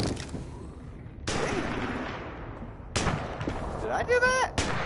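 Sharp gunshot blasts in The Walking Dead video game, a few loud cracks with decaying echoes, followed by a whistling, warbling effect near the end.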